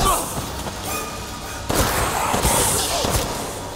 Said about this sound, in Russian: Я ж по тебе выстрелил.